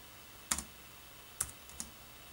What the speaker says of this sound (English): I'm just going to use a keyboard